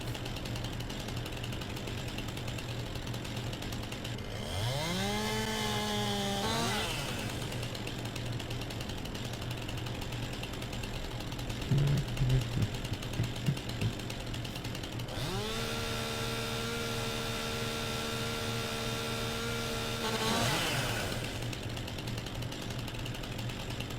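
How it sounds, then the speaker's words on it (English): A chainsaw in the video game Farming Simulator 19 revs up twice, climbing in pitch and holding a steady buzzing whine each time, with a low background hum and a few clanks between the two bursts. "I can't run with a chainsaw."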